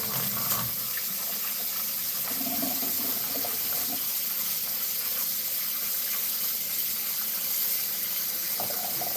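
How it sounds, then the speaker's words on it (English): Tap water runs steadily into a sink while onions are rinsed, a loud continuous gushing splash that stays close and unbroken throughout. "I gotta rinse the onions off."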